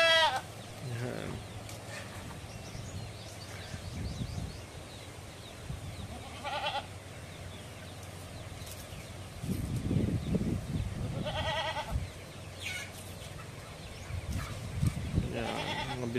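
Goats on a farm bleat repeatedly, several loud nearby calls spaced across the scene with quieter stretches and rustling between, along with some farmyard background noise.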